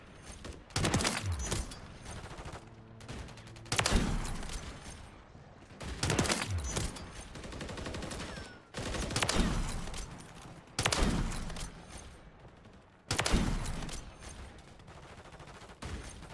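Bursts of video game gunfire, several separate volleys of rapid shots a few seconds apart, loud and close with brief pauses between, no talking.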